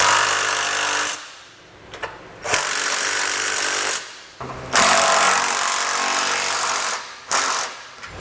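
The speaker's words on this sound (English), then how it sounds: "we can use a 3/4 inch socket to snug down all of our hardware" Power tool with a 3/4 inch socket tightening flange nuts on a trailer hitch receiver being installed on a 2012 Chevrolet Traverse, loud close whirring bursts of a few seconds each, separated by short pauses.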